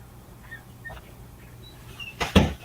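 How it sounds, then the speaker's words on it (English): An indoor door pulled shut in a room, a single close thud with a short rattle of the latch, fairly near and loud against a quiet room hum, with no talk. "once I close this door, we're gonna start this review"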